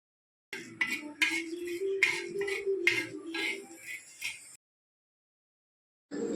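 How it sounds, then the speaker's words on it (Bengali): A spatula scrapes and rattles against a hot pan in about eight quick strokes, close by, stirring dry spices before falling silent. "এই তিনটেকে আমি একটা তাওয়ার মধ্যে শুকনোভাবে আমি এটাকে ভেজে নেব"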